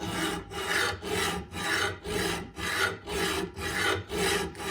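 A lawn mower blade is sharpened by hand with a file, giving about nine steady back-and-forth rasping strokes in an even rhythm. The strokes are close and clear, with no talking.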